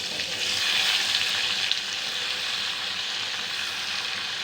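Paneer frying in ghee with a little oil and butter, a steady, fairly loud broadband sizzle that holds evenly throughout with no talk.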